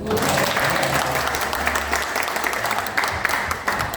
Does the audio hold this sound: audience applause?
yes